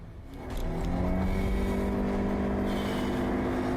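A car engine revs up and accelerates hard, rising in loudness after a short quieter start and then holding a strong, steady drone with no talk.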